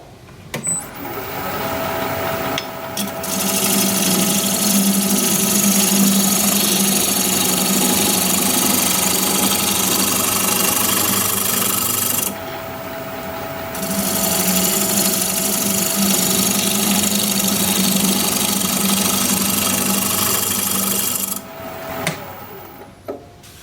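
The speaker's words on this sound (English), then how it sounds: "I'm just going to use my negative rake scraper to clean it up" A steady mechanical whir of a spinning wood lathe with a negative rake scraper grinding against black walnut, in two long passes separated by a brief lull.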